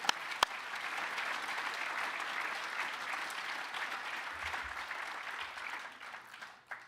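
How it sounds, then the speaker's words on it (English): An audience at a rowing team's 75th anniversary celebration breaks into sustained applause, a dense even wash of clapping heard from mid-distance that fades out near the end. "So give yourself a round of applause for coming here."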